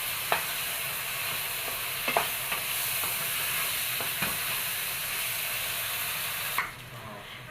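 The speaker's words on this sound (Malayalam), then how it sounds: "എല്ലാം കൂടി നന്നായിട്ടൊന്ന് മിക്സ് ചെയ്തിട്ട് മൂടി വെച്ച് കൊടുക്കണം." Chicken being stirred with coriander and mint leaves for Kerala biryani, a steady sizzle and hiss from the pan with several sharp scrapes of a utensil, close and continuous before the sound drops away near the end.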